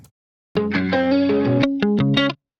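A short phrase of electric guitar with a little overdrive rings out alone, several sustained chords and a few quick stabs before cutting off.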